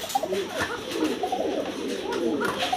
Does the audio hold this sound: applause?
no